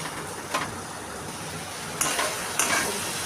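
Mutton curry sautéing in oil with turmeric, chilli, cumin, coriander and Kashmiri chilli powders, salt and a little sugar, giving a steady close sizzle with a few sharp scrapes of stirring.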